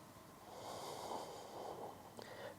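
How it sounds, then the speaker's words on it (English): One deep, breathy exhale close to the microphone during a yoga pose for lower back pain, soft and airy, with no voices. "take a couple of deep breaths"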